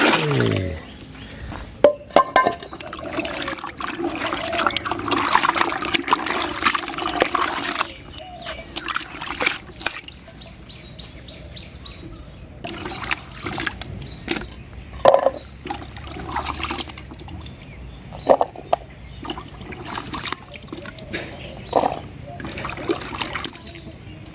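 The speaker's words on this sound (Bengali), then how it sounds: "এই সবজিগুলো এখন আমি অনেক জলের মধ্যে দেবো" Home-grown vegetables being tipped into a large pot of water, with splashes, trickling and clattering over a noisy household background while someone talks throughout.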